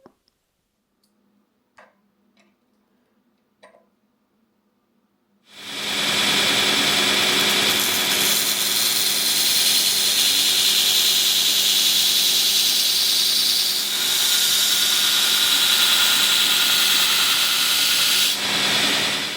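A belt grinder fitted with a 60 grit belt grinds carbon steel for a small knife blade, kicking in after a few quiet clicks and then roaring as a loud, steady, broadband hiss for about fourteen seconds with slight swells in intensity.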